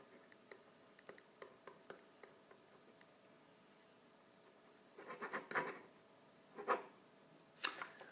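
A pen scratches across a paper form as a name and birth date are written, producing faint, sparse ticks and short scribbling strokes in a quiet room, with a few louder scratches toward the end.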